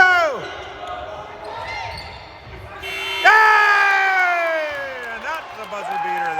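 A basketball game buzzer sounds at the end of a period, with long sustained electronic tones that drop in pitch, over crowd noise and cheering in a gym.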